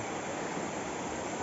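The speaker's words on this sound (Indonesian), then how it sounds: "memandangi sungai pas di sebelah gereja" A river flows beside a church, giving a steady, even rush of water that fills the whole moment at moderate distance, with no voices.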